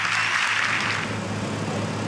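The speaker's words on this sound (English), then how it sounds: "Join us in applause now as we recognize these incredible heroes." An audience applauds rescuers who freed a college student from a crushed car, a steady hiss-like wash of many hands clapping together, even and sustained from start to finish.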